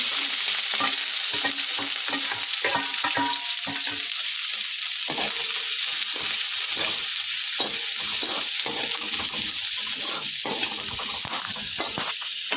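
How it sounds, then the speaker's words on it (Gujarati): Vegetables sizzle loudly in hot oil for chicken noodles, a steady bright frying hiss with repeated stirring scrapes and clatters throughout, close and continuous. "શાકભાજીને થોડીક વાર સોતરવા દેશી તો આપણા બકાલા સરસ સોતરાય છે"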